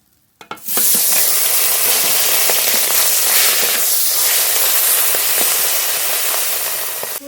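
Bata fish frying in hot oil, a loud, dense, continuous sizzle with crackling spatters that starts suddenly and holds steady close up. No voices.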